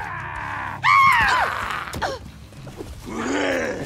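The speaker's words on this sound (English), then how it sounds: "A lot of screaming going on." Video game characters let out screams, grunts and groans in bursts of strained, pitched vocal cries, loud and close, with in-game clatter between them and no talk over them.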